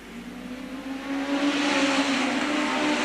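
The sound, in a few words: National Hot Rods race cars racing around the turn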